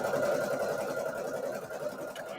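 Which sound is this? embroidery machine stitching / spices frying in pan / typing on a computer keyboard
embroidery machine stitching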